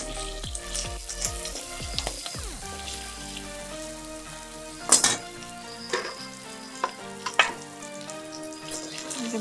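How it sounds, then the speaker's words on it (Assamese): Eel fish and potatoes with spices fry in oil, a soft steady crackle and sizzle with occasional sharper spatters and utensil taps, close and fairly quiet, alongside background music with no voices. "ইয়াত এইখিনি তেলতে মই আলুখিনিও মছলাৰে ভাজি ল'ম।"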